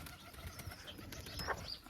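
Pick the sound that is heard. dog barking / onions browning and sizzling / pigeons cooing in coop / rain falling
pigeons cooing in coop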